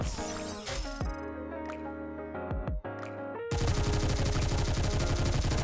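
Gunfire in the video game Goddess of Victory: Nikke, layered with electronic game effects and music, ending in a dense, loud continuous burst of rapid shots.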